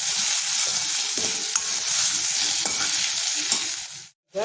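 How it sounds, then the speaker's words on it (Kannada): Raw mango pieces fry with salt and sugar in a pan, a steady bright sizzle broken by scraping stirs of a spoon, ending with a brief silent gap. "ಈ ಉಪ್ಪು ಸಕ್ಕರೆಯಲ್ಲಿ ಸ್ವಲ್ಪ ಹೊತ್ತು ಹುರಿಯೋಣ"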